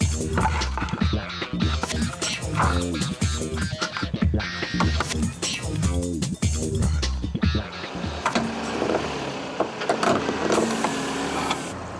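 A car rolling over nails on tyres treated with TyreGuardian sealant, with a close engine rumbling and drive noise, rhythmic rattling and scraping over the first several seconds, then a steadier hiss as it drives on.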